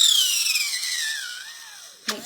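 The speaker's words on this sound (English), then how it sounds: "You can drill these to make these holes bigger." A power drill whines down in pitch as it bores through a plastic part for a sugar glider bath tub toy, loud and close, with a short knock right after it stops.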